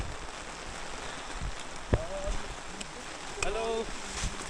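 Steady rain patters outdoors on the Tungnath trek near Chopta, Uttarakhand, with a few brief whistles and faint distant voices rising over the constant wash.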